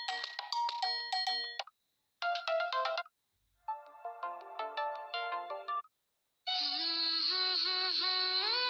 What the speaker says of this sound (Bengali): সো আমি এইখান থেকে দুই একটা শোনাচ্ছি আপনাদেরকে যে কীরকম রিংটোন